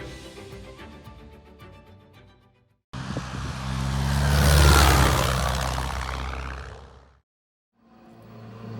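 Propeller aircraft engine roaring during takeoff on a bush flight in Southeast Alaska, surging loudly and steadily before cutting off abruptly, then resuming more faintly.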